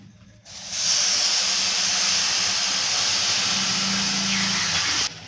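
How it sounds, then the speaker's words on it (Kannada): Grated carrot boiling in thick milk in a pan for gajar halwa, giving a steady, loud bubbling hiss that starts abruptly and holds evenly for several seconds before cutting off. "ಇವಾಗ ಇಲ್ಲಿ ಹಾಲು ಹಾಕಿದೀವಲ್ವ ಗೆಜ್ರಿಗೆ ಯಾವ ತರ ಕುದೀತಿದೆ ನೋಡಿ"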